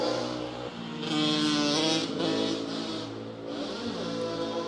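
Motorbikes doing wheelies on a road in Kalajoki, Finland, their engines revving loudly and rising and falling in pitch as they accelerate past, close and continuous.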